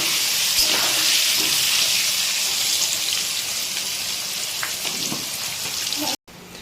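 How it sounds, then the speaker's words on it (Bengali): Potatoes fry in a pan for a thin Bengali chicken curry, giving a continuous close crackling sizzle like rain, with a few sharper clicks and a short break near the end. "দিয়ে এবারে এটাকে আমাদের ভালো করে আগে ভেজে নিতে হবে।"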